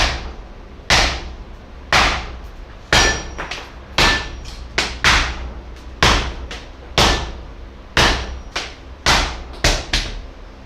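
Blacksmith's hammer rings sharply on an anvil in a series of about fourteen loud, close strikes, some single and some in quick pairs, each with a short metallic decay.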